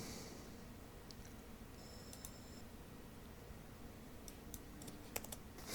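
Typing on a computer keyboard while working in audio editing software, heard as faint, sparse clicks and short bursts of keystrokes over a steady background hiss.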